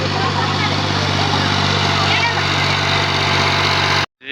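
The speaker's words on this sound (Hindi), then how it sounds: "ये ट्रैक्टर चल रहा होता है" A tractor engine runs steadily at close range, a loud, continuous low rumble and vibration on a rough road, before cutting off abruptly near the end.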